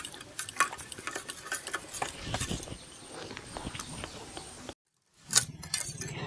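Shrimp are mixed by hand with mustard oil and spices, giving soft, wet squelching and patting sounds in an uneven rhythm, close and quiet, with a short silent break near the end.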